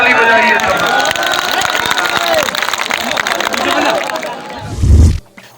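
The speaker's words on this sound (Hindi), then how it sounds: "भाजपा के नेता हमारे भाई मोदी साहब के लिए एक बार, धर्मपाल जी के लिए एक बार जोर से ताली बजाइए सब" Crowd at a BJP election rally in Sambhal, Uttar Pradesh, clapping and cheering loudly and steadily in the open air, a dense continuous wash of applause and voices that breaks off into a brief low thump near the end.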